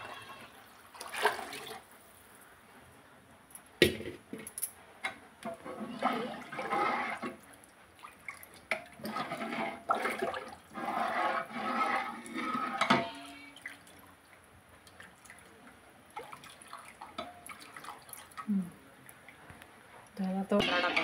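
Water poured into a crab curry pot, several splashing, gurgling bursts close by, interleaved with people talking throughout.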